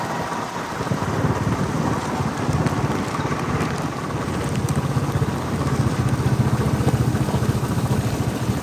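Summer rain pours steadily during a motorcycle ride, a dense continuous hiss of falling drops with faint road and engine noise beneath, no voices.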